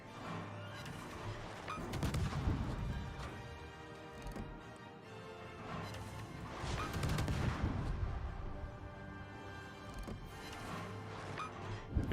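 Naval gunfire in World of Warships, heavy warship artillery booming in repeated salvos with deep thuds and rumbling blasts layered over constant battle noise.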